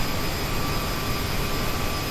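Steady, loud whine and rumble of a Bombardier CRJ jet engine in Microsoft Flight Simulator, a constant droning tone without breaks.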